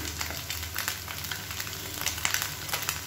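Egg and masala stir-frying in a pan for egg fried rice, a steady close sizzle with light scraping and clinks of a spatula, no talking.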